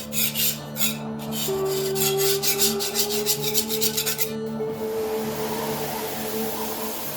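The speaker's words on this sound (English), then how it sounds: "The next day I scraped off the paint." Paint is scraped off a metal part of an Ingersoll Rand T30 242 compressor, giving loud, rhythmic rasping strokes up close over a steady mechanical hum, then a more even scraping drone.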